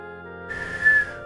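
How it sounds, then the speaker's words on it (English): A person whistles a brief, thin high note for about half a second, faint and close, over soft background music. "Nope, I'm still whistling."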